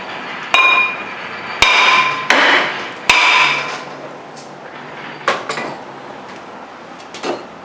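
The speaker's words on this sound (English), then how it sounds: "I'm going to try hitting it with the hammer first" A hammer strikes a rusted front brake rotor on a 2003 Buick Park Avenue, four sharp metallic clanks ringing out in quick succession, followed by softer knocks and rattles in a garage.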